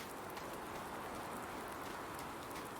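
Rain in Farming Simulator 19, a dense steady hiss of falling drops that stays even and fills the scene with no other sounds over it.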